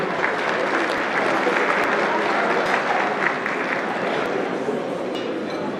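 Audience applause at a netball championship closing function and awards ceremony: a steady, dense roar of many hands clapping throughout, fairly close, with faint voices mixed into the crowd.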